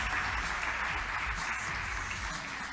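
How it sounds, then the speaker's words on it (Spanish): An audience applauding a family at a church youth camp event, dense sustained clapping filling the whole moment at an even level and tapering slightly toward the end. "Un aplauso le damos desde acá bien, a la familia Cherimeli."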